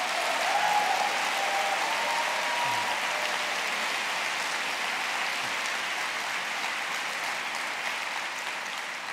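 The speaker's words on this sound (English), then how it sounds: "Let's have one more big round of applause for our wonderful signers tonight." A large seated audience at a poetry prize reading at the Southbank Centre keeps up a long, even round of applause, with a faint cheer near the start, slowly tapering off.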